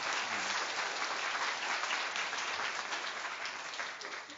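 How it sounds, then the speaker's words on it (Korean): At a roundtable meeting in Jeju, South Korea, an audience gives a second round of applause, a dense, steady clapping that fills the room for about four seconds and fades slightly at the end, with no speech on top. "다시 한번 격려해 주시는 참에서 박수 한번 더 해주십시오"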